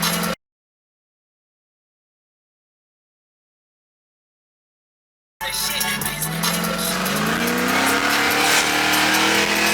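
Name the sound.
Monte Carlo SS with Whipple supercharged 376 LSX engine accelerating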